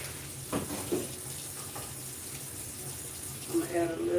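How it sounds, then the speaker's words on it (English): Tap water runs into a pot for candied yams, a steady close splashing stream with a few knocks and clinks near the start and end. "I'm gonna add a little water,"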